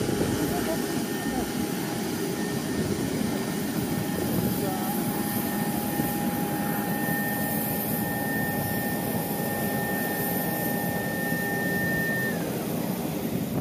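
An MC-21 airliner over a snow-covered airfield, a steady, continuous jet roar with a sustained whining tone that holds and then drops away near the end.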